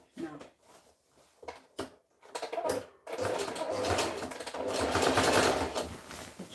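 Sewing machine doing zigzag stitching in a handmade sewing workshop: a few taps at first, then a continuous fast whirring run that grows steadily louder.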